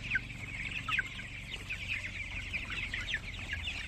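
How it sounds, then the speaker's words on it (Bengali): A flock of 26-day-old Tiger chickens clucks and chatters continuously nearby on a farm, a busy overlapping stream of short calls with no voices. "এটা হলো আমার টাইগার মুরগি সেটা প্রতিদিন সকালে ছাড়লে এই দৃশ্যটা দেখা যায়"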